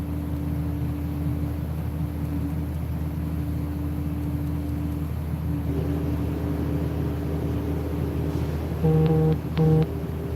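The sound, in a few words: rubbish truck working outside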